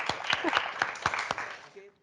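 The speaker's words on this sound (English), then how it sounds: "Give yourselves a clap." Scattered clapping from participants at the close of a screenwriting workshop at a university film festival, sparse and moderately faint with a voice talking over it.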